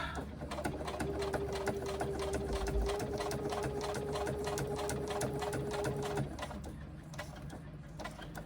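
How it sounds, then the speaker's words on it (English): A sewing machine stitches a fabric pouch, a rapid rhythmic mechanical clatter running steadily for about six seconds before it stops, leaving a quieter background. "When we get to the binding piece, stop. Pivot it slightly and come out for a couple of stitches."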